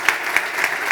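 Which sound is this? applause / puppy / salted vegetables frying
applause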